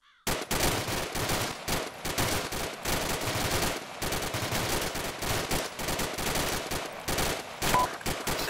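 A rifle section on a training range fires rapidly at a lone bush 50 meters away, loud overlapping gunshots cracking in quick irregular bursts, nearly continuous throughout.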